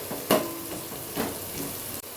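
Cut onions and green chillies fry in hot oil in a pan for a vegetable pulao, giving a soft, steady sizzle broken by a few louder crackles as they are stirred.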